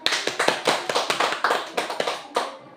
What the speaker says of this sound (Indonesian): kita berikan tepuk tangan untuk Ibu Hilda Bunda.